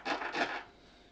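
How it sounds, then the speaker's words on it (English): Filing the outer shell at the end of an RG402 semi-rigid coax connector: two quick, close rasping strokes in about half a second, then quiet. "you can file where that hole is, file a bit of the outer shell of the connector."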